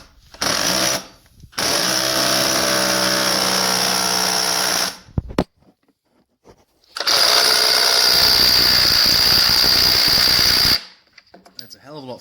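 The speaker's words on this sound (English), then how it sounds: "So, rattle gun all the way." A pneumatic impact wrench rattles loudly in two sustained bursts, each lasting several seconds with a short pause between, the buzzing hammering close up and alone.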